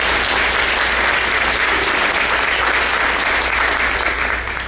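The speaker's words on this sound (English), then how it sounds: "let's give them all a round of applause" A crowd applauds loudly and steadily, the clapping sustained throughout before easing off slightly at the end.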